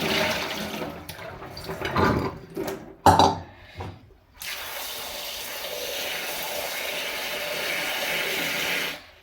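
Spinach leaves for crisp spinach fritters are rinsed in a bowl of water, making near, continuous sloshing and splashing with a few brief clatters, then a steady watery rush that runs through the second half.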